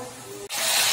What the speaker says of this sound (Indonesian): Oke guys, kita bakal goreng sampai jadi.